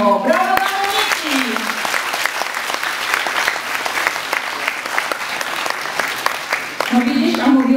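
A group applauding for Monika at an academic day science demonstration, with loud, sustained clapping from a small crowd and voices calling out at the start and end.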